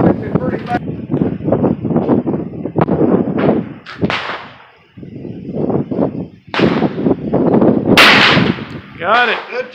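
Several sharp rifle or musket reports at an outdoor shooting range, with guns including a .45-70 Springfield, a cap-and-ball revolver and an 1862 C.S. Richmond rifled musket, fired at irregular intervals between close, conversational voices.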